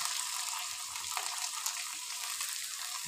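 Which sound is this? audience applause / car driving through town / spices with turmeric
spices with turmeric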